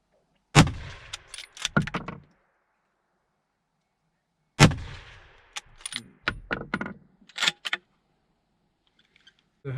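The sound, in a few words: rifle shots from a Varberger 6.5x55 rifle at a range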